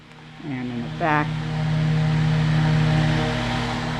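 A large electric circulation fan switched to its highest third speed gives a steady, fairly loud broadband whoosh of blade-driven air with a low hum. A few brief tonal sounds rise over it near the start.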